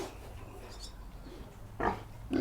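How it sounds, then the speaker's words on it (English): Young pigs about four months old grunt softly in a farm barn, two short, louder snorting grunts standing out near the end over a low rumbling background. "pigs actually have 50 different vocal sounds that they use to communicate"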